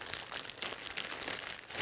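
Ingredients with salt, sugar and butter crushed inside a plastic zipper bag, giving a run of soft crinkling and crunching rustles at close range, with no talk.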